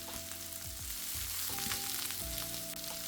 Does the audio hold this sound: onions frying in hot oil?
yes